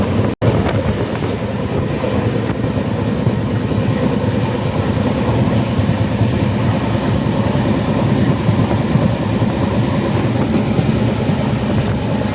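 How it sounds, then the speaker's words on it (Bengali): A train at Prayagraj Chheoki railway station makes a steady, loud rumble of rolling cars under wind buffeting on the microphone, with no talk. "আরও আগে এসছে ট্রেনটা"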